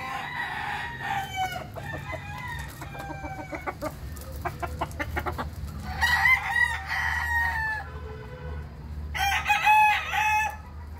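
Several roosters crow in turn, loud and close, with clucking hens and a low farmyard hum underneath; fine-breed gamecock roosters.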